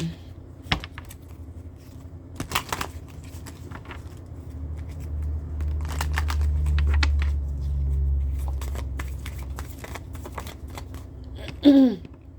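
Message cards are shuffled in quick, crisp riffling bursts, close and moderately loud, repeating several times over a low background hum with a brief voice near the end.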